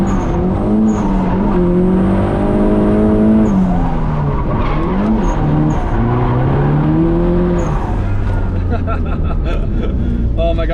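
Car tires squealing loudly while sliding during drifting, with wavering high-pitched screeches over a revving engine that rises and falls, ending in a shorter, steadier squeal near the end.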